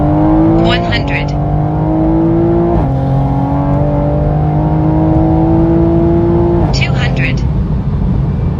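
A 600 hp Toyota GR Supra accelerates hard, its engine note climbing in loud, close pulls broken by quick gear changes, with a voice talking over it.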